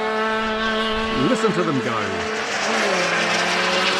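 Buzzing, high-pitched whine of small, roughly 10cc radio-controlled model aircraft engines, with a pitch that swoops as one passes close, and a voice speaking briefly over it.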